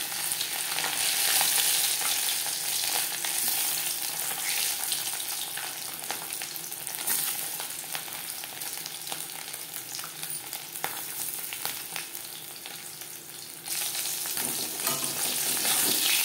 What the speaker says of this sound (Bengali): মাছ ভাজবার জন্য কড়াইতে 5 চামচ রিফাইন্ড অয়েল গরম করে নিয়েছি।